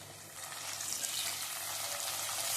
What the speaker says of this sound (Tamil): வெங்காயமும் பூண்டும் நல்லா வதங்கிடுச்சு.